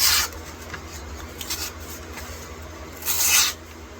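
A vintage electrician's knife slices through paper in two short, dry rasping cuts, one at the start and one near the end. Faint scraping and light handling noise fill the quiet gap between them, close up.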